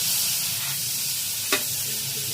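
Garlic sizzles steadily in a hot pan with a broad, close frying hiss and one brief stir or clink near the middle.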